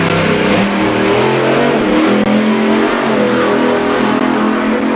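A top methanol drag racing car making a full run at Santa Pod Raceway, its engine roaring loud and unbroken for the whole stretch, harsh and dense with no pauses.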